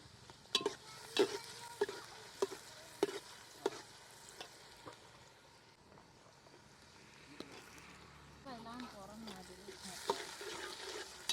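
Onion, ginger and garlic sautéing for pav bhaji over a wood-fired chulha, with a steady sizzle broken by several sharp stirring scrapes and knocks in the first few seconds, then quieter frying with a faint voice-like trill near the end.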